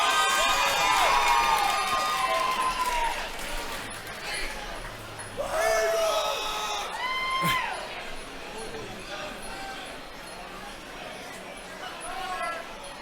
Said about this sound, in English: this crowd today is insane